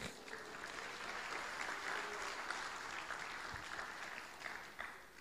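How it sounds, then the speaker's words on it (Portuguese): A church congregation applauds steadily for several seconds, a dense wash of clapping at moderate distance with no talk over it. "Aplauda Jesus."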